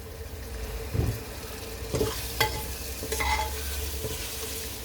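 Mutton with yogurt cooks in a pot with a steady sizzle and bubbling, punctuated by a few distinct stirs and scrapes of a spoon against the pot.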